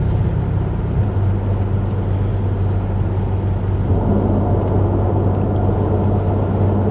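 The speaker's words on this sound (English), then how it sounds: "in terms of the road noise, I would say it's not as great as in a luxury vehicle." Steady, loud low rumble of road and tire noise inside a moving 2026 Cadillac CT6 Platinum 3.0TT, a continuous in-cabin drone with no talking.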